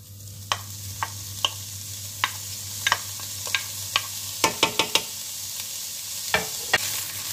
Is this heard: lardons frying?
yes